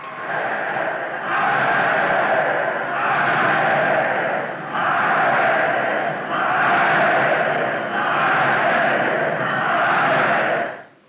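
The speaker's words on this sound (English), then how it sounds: "Only 300 miles away, people were cheering another kind of event." A large crowd cheers and roars at a public event in Britain in the 1940s, sustained waves of massed voices rising and dipping over about ten seconds, echoing.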